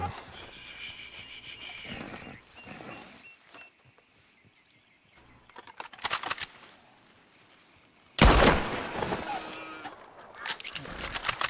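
Loud gunshots crack out during hunting in Red Dead Redemption 2, a short burst around six seconds and a heavier, close blast later, amid quieter stretches with goose-like honking.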